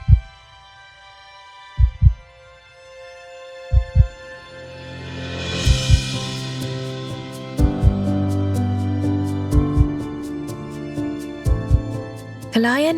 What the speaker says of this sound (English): It all starts with a heartbeat.